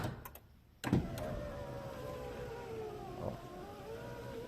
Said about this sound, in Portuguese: Estou aqui com o controle e vou travar o carro.